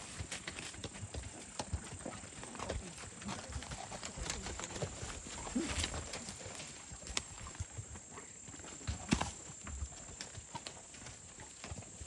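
Horse hooves clip-clop in an uneven series of knocks at a moderate distance over a quiet outdoor background.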